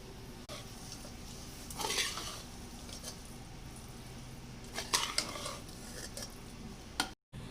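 A spicy pasta sauce with mayonnaise is stirred in a pan, giving soft scraping and faint sizzling, with a couple of louder clattering bursts of utensil against pan.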